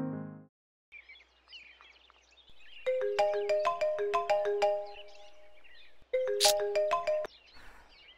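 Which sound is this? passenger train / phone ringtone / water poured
phone ringtone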